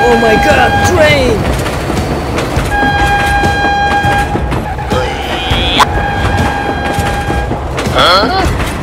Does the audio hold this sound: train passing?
yes